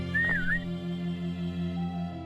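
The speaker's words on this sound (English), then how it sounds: "when you actually have a saddle on a horse, you can whistle for it" A player whistles for a horse in the video game Kingdoms: one short whistle that rises and falls, heard over a steady low drone of game ambience.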